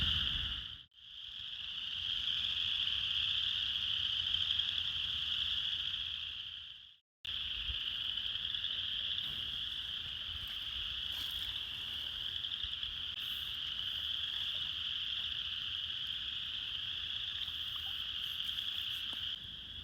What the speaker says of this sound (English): We're hearing about 3 different species of frogs right now: spring peepers, western chorus frogs,